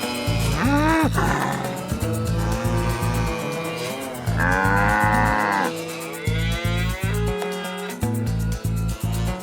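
A voice imitates a cow with several drawn-out moos over loud rhythmic music, the mooing rising and falling in pitch.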